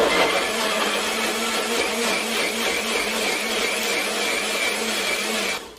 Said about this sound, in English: We're going to blend this up.